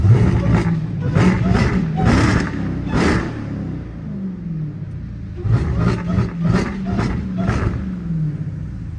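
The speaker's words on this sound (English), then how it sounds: "Time to give y'all some revs." A Dodge Charger Demon's engine revs repeatedly in a snowy city, loud bursts of roaring and rumbling rising and falling in two clusters, with a pause of quieter idle between them.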